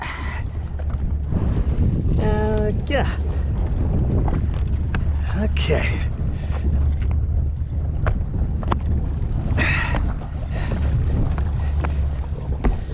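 A motorboat on Lake Erie drones steadily under strong wind buffeting, with brief speech from people aboard over the constant low rumble.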